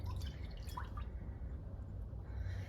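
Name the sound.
chicken broth being poured into a crockpot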